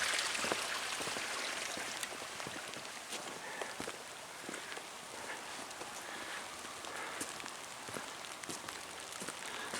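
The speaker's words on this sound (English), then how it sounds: "Yeah, it's raining." Steady rain patters on tree leaves in a small park in Capitan, New Mexico, a continuous dense hiss of drops with scattered louder plops, fairly close and unbroken by talk.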